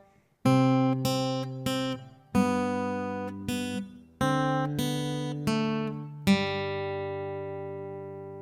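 An acoustic guitar plays the B section of We Wish You a Merry Christmas as a sequence of clear, evenly spaced plucked notes, each ringing until the next, with the final note left to fade out.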